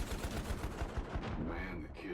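A machine gun firing incendiary bullets in a video game rattles off a quick, evenly spaced burst for over a second, then cuts to a ringing, fading tail.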